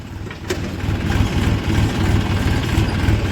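Trucks with engines running at a sugar mill, a steady low diesel rumble with a pulsing throb, fairly close, carrying on without a break and with no voices.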